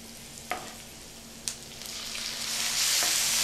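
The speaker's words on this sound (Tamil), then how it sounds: "தக்காளி ஆட் பண்ண போகிறேன்" Chopped tomatoes hit hot oil in a pan with softened onions, giving a steady sizzle that swells louder toward the end, with a couple of sharp clinks of a spoon against the pan along the way.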